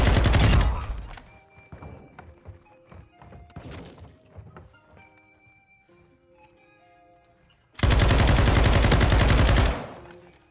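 Bursts of light-machine-gun fire in a Call of Duty MW2 gunfight with a Sakin MG38: a loud rapid burst opens, scattered distant shots and thuds follow, then a second sustained, close, heavy burst lasts about two seconds.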